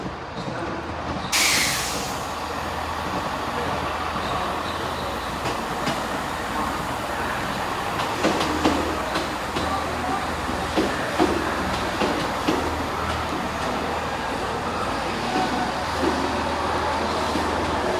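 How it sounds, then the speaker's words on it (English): A passenger train with nine coaches runs along the rails, a steady rumble with repeated clickety-clack beats and a brief hiss near the start, heard from on board with no talk. "This train has 9 coaches."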